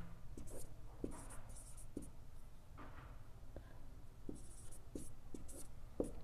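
A pen writing a definition by hand on paper, with scratchy strokes and small taps repeating steadily at close range, fairly quiet with no voices.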